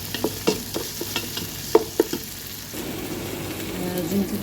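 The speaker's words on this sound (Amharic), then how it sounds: "ሽንኩርት እየጠበሰ ነው።" Onion frying in a pan with a steady sizzle, broken early by several sharp stirring knocks and scrapes, then settling into a continuous close hiss.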